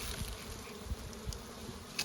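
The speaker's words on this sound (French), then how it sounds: "on ouvre la ruche. Les abeilles sont venues manger le candy qu'on leur a mis la semaine dernière." Honey bees buzz in an opened beehive as they feed on candy, a dense, continuous close-up hum with occasional louder individual bees passing near, and no talking.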